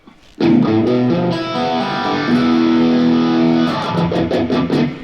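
Electric guitar through a flanger and a Phase 90 phaser in a classic rock style tone, sustained distorted chords with a swirling, sweeping shimmer, loud and close, ending in choppier strummed hits.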